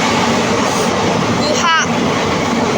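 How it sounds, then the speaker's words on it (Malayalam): Inside a moving passenger train, a loud, continuous rumbling roar fills the whole stretch, with a brief squealing whine rising in the middle. "എനിക്ക് തോന്നുന്നു ഞാൻ ആദ്യമായിട്ടാണ് ഇങ്ങനെ ട്രെയിൻ കാണുന്നത് തന്നെ കേട്ടോ"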